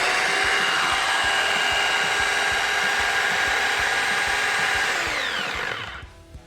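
An improvised electric fan motor powered from a high-amperage transformer whines loudly and steadily for several seconds, then its pitch drops as it spins down and stops near the end.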